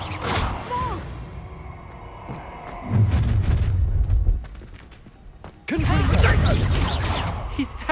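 Confringo explosion spells burst during a Hogwarts Legacy wizard duel, two heavy booming blasts with rumbling low-end crackle, separated by a quieter stretch of background game sound.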